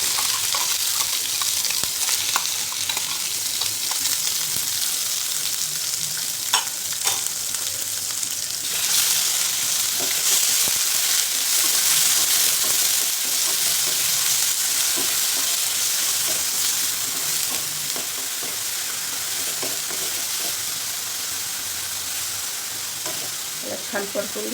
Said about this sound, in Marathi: छान परतून घ्यायचे पेस्टला.